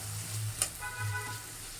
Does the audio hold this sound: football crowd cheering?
no